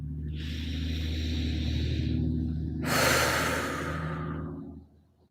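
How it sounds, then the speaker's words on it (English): A person takes a slow, deep breath in and lets it out in a long sigh during a calm guided tapping session, heard close and alone over a faint steady hum before fading to quiet. "let's go ahead and take a breath here"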